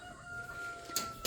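Backyard chickens clucking, soft low murmurs close by with a brief sharper squawk near the end, quiet and without talk.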